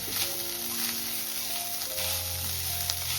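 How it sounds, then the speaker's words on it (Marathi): Grated coconut roasting in a pan until golden, a continuous close sizzle with an occasional light stir or scrape and a steady background hum, with no voices. "खोबरा आपल्याला थोडासा सोनेरी रंग येईपर्यंत परतत आहे"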